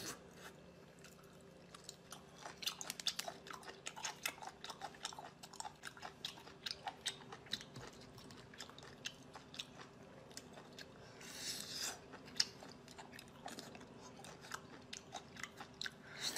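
Raw octopus is bitten and chewed up close, with wet, squishy mouth sounds and sharp crunchy bites scattered irregularly over a quiet background.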